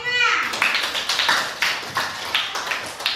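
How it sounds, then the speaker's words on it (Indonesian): Children in a classroom clap in a rhythmic pattern for a group during a science lesson on the properties of light, with sharp, evenly spaced bursts of claps close by. "tepuk tangan untuk kelompok 5"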